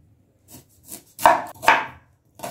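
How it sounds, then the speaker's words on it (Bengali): Onions being chopped with a knife on a board, a handful of irregular close thuds that grow louder, with a pause between strokes and no talking. "এবার পেঁয়াজটাকে ঝিরিঝিরি করে কেটে নেব।"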